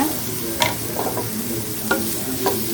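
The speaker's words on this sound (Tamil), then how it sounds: "தக்காளி கொஞ்சம் நல்லா வதக்கிக்கலாம்" Tomatoes sautéing in a pan for a cauliflower pepper fry, with a steady soft sizzle and a few sharp clinks of a spoon stirring against the pan.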